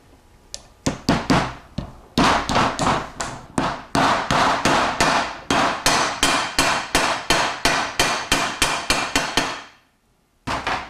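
Steady series of sharp hammer taps driving a seal into a drag-race Powerglide transmission pump, about two dozen evenly spaced knocks, close and loud, stopping briefly near the end before one more tap.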